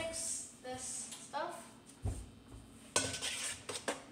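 Food for migas is stirred in a pan, with scattered utensil clinks and scrapes against the cookware, close by, mixed with quiet talking.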